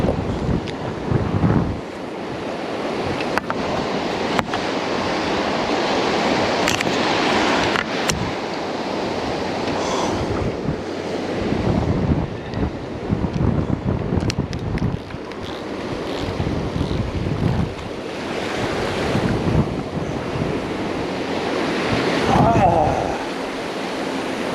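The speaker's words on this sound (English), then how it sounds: "It's so windy." Strong wind buffets the microphone on a surf-fishing beach at Hilton Head Island as ocean waves crash and wash in, a loud continuous roar with surging swells throughout.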